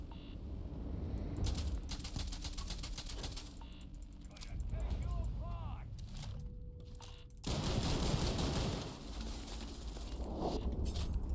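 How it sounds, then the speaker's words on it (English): Video game gunfire, with rapid bursts of automatic shots in quick rattling runs and louder sustained firing later, mixed with other game effects; a voice talks at points. "When you shoot guys, they don't shoot you because they're stunned. Or maybe it's just this gun."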